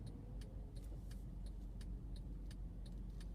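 Road traffic on Montgomery Road heard from inside a waiting car: a steady low rumble of passing vehicles with faint ticking, continuous and moderately distant, with no talk.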